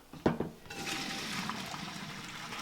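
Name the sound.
water running while draining pasta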